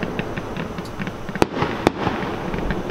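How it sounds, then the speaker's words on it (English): Fireworks crackle and pop at a moderate distance, with two sharp, loud bangs standing out over a steady bed of fainter crackling and rumble. "It's fireworks"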